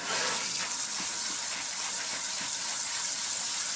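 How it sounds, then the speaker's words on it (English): Cold water runs from a kitchen tap over spinach leaves being rinsed, a steady close splashing gush with small shifts as the leaves move under the stream. "the first thing I do is turn on the cold water"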